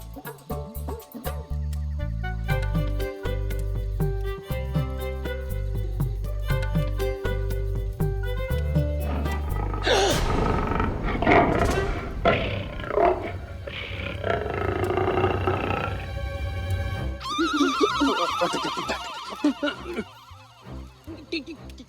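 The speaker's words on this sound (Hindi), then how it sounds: "सही उत्तर, ये बाघ की ही दहाड़ है।" A tiger roars loudly in the middle of the sound, a long rough growling blast set between stretches of dramatic music with crashing hits, as part of a guess-the-sound game in a courtroom comedy scene.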